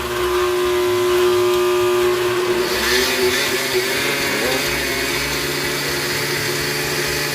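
A steady, loud motor whine of a food processor running continuously, with a harsher grinding texture setting in partway through as it chops.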